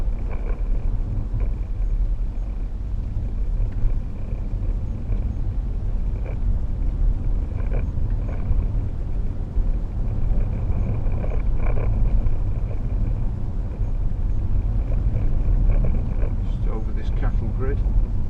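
A 2012 Range Rover Sport 3.0 SD V6 is driven over a bumpy road, heard from inside as a loud, steady low rumble with occasional faint knocks and thumps from the suspension.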